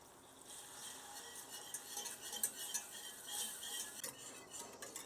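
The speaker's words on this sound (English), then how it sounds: "I'm just going to sit here and whisk this until it's thickened." A whisk works milk into a thickening sauce in a pan, making continuous quick scraping and rattling strokes against the metal, close and fairly soft, with no voices.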